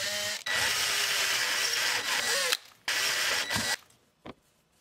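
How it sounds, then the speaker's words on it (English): A power drill bores 1/4-inch holes into 3/4-inch Baltic birch plywood, a loud whirring burst running a couple of seconds, then shorter bursts and a few clicks before stopping. "we're going to drill 2 1/4-inch holes so that we can mount it."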